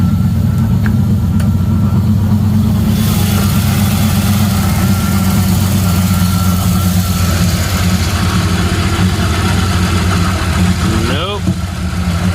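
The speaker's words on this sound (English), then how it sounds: "like it's trying to backfire a little bit right then" A car engine idles roughly and unevenly, a loud, close, low throbbing hum that sounds ready to backfire, with a brief sputter near the end and a voice talking over it.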